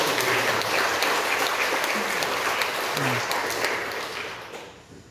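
A church congregation breaks into applause, many hands clapping in a full, steady burst that tapers off toward the end, with faint voices underneath.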